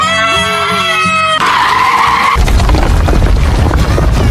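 Cartoon sound effect of a runaway bus skidding out of control: a loud, harsh tire screech, then a rough roaring rush of noise that carries on to the end, with no speech.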